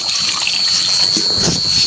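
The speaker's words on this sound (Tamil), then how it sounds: "இங்கே இறங்க தண்ணி ஊற்றி கழுவ வைப்போம்" Water is poured over peeled carrots and onions to wash them in a kitchen, a steady close splashing and trickling stream with no talk.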